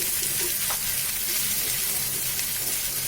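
Sliced onions with a pinch of salt sizzle steadily in a hot pan, a continuous close crackling hiss with occasional stirring scrapes, no voices.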